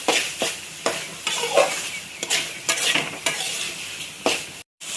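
Capsicum being stir-fried in a pan for paneer fried rice: a spatula scrapes and knocks in a steady rhythm over a constant close sizzle.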